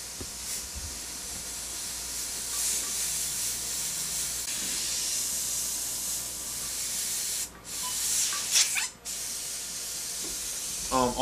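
An airbrush sprays paint over a portrait on a black shirt, giving a steady close hiss that runs almost the whole time, with brief pauses and sharper bursts near the end.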